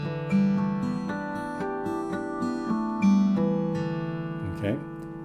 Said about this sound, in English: This one begins with a regular note, open fourth string, and it sounds like this.